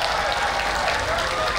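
A large crowd at an outdoor Golkar party anniversary celebration gives steady, dense applause that holds at an even level throughout, with voices mixed in underneath.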